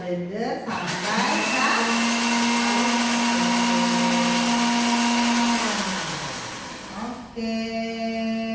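A kitchen blender runs steadily for several seconds, blending chopped dragon fruit with a little water: a loud, even motor whine that spins up, holds, then winds down before a brief restart.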